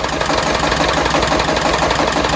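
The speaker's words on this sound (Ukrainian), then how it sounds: "відео про регулювання колостого хода шифенгів булатів МСФ 160-200 на примірі цього трактора" A Shifeng SF 160 / Bulat tractor with a ZS1100NM engine idles up close with a steady, loud, continuous mechanical chug and no break or pause.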